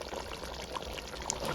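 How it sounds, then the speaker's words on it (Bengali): Hot water is poured into a pot of browned mutton curry, making a soft, quiet, continuous splashing pour. "এখন পরিমাণ মতো পানি দিয়ে দিব।"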